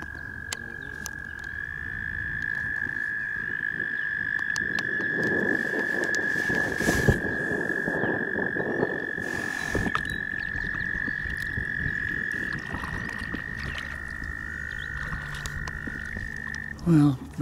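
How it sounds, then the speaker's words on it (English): Frogs croak by a river, a steady high trilling chorus that runs almost the whole time, with scattered lower croaks and faint background sounds. Nobody speaks. "Are those weird frogs?"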